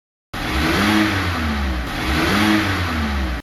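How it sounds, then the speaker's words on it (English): A yellow school bus arriving and stopping across a street, its engine a loud, close, steady drone with a rising and falling whine, heard alone without talk. "It is the yellow school bus. It stops right across the street."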